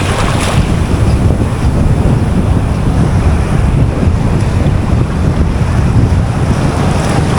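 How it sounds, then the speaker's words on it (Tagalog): Sea waves and strong wind at a shoreline fishing spot, a dense continuous roar of surf with heavy wind buffeting the microphone, loud and close throughout, no voices. "biglang lumaki yung alon"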